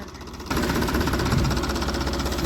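A tractor engine fires up and settles into a loud, close, rough chugging idle with a knocking rhythm, running steadily after a quieter start.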